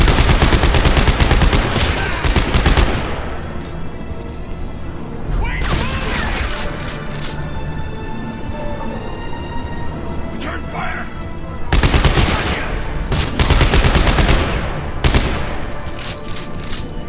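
Heavy gunfire from the sci-fi horror game Dead Space 3 roars in dense, loud automatic bursts, easing into a lull of mechanical clanks before rapid firing erupts again.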